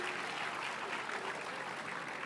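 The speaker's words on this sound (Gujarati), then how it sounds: "તો ધોરણ 1ના વિદ્યાર્થીઓ માટે આપણે ફરીથી એકવાર જોરદાર તાળીઓથી વધાવીશું." Audience at a school annual function applauds: a faint, steady wash of clapping from across the hall, continuous for a couple of seconds, with no voices over it.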